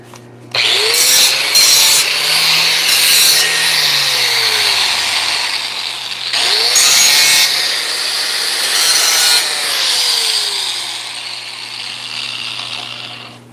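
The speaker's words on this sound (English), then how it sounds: "the reason that sounded different is because I picked up the wrong damn grinder" An angle grinder works the edge of a battle axe in two long passes, a loud, close, harsh rasping whine with the motor's pitch sweeping as it spins up and winds down between them.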